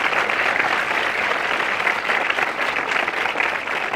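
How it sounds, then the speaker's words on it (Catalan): An audience claps steadily and loudly throughout, a dense wash of applause for Marga at a night event in El Prat, with no voices standing out. "un fort aplaudiment per la Marga"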